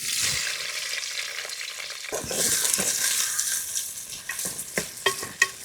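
Curry leaves, onion and green chilies frying in hot oil with mustard, fenugreek and cumin seeds for a bitter gourd pulusu, a loud continuous sizzle that swells midway, with sharp spatula scrapes and knocks against the pan.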